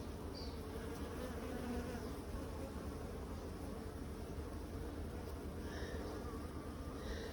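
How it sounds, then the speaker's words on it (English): Honey bees buzz continuously around the microphone at a hive, a dense steady drone at low volume with no talking. "there you go, little bee."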